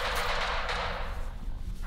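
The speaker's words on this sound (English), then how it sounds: "Is that gunfire over there?" Distant gunfire in Stalker 2 rattles as a dense, continuous crackle under a low rumble, steady and loud throughout with no clear separate shots.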